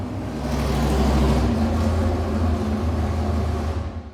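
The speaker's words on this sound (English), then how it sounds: "It's like monster trucks outside right now." Loud low rumble of heavy trucks passing close outside, a steady broadband roar that swells and holds for several seconds, with no talking.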